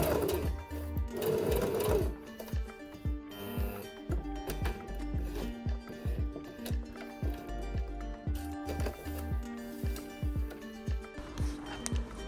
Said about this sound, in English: Then just stitch 3 stitches this side, which will be 1/4 inches.